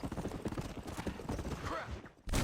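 Horse hooves clip-clopping in rapid, busy rhythm in the Red Dead Redemption video game, mixed with neighing, game sounds and voices, fairly quiet overall before a louder burst at the end.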